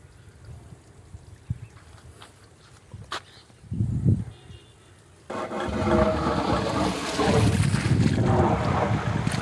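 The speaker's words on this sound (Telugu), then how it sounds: "వెలిగిన తర్వాత మోటార్ ఆన్ అయిపోతుంది." An electric farm water pump motor switches on through a starter, jumping abruptly from quiet clicks and thumps into a loud, steady running hum and whoosh that continues to the end.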